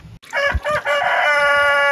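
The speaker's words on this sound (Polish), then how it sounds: "Kogut nam nie da nagrać." A rooster crows once, loud and close, a rising then sustained cock-a-doodle-doo in a rural yard.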